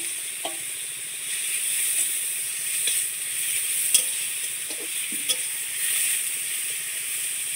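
Grated kohlrabi frying in hot oil with nigella seeds and asafoetida, a steady close sizzle broken by occasional scrapes and clinks of a stirring spoon against the pan.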